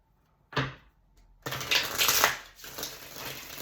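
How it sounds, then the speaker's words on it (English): A deck of tarot cards for a May reading gets shuffled near the mic, with a short riffle, a pause, then a longer, louder flurry of rattling card shuffling. "Get a nice thorough shuffle here."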